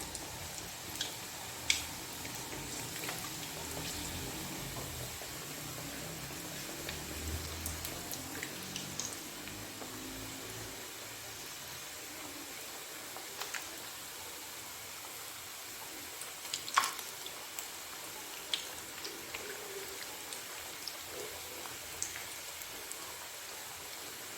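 Chicken macaroni samosas frying in oil on medium heat, a soft steady crackle and sizzle with scattered faint pops and ticks throughout.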